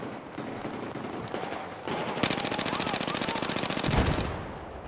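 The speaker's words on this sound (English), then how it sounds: "Dilly, shoot the bloody guys shooting me from your side." Sustained automatic machine gun fire rattles in a Battlefield 4 team deathmatch, starting faint and building into a loud, rapid, close stream of shots before cutting off.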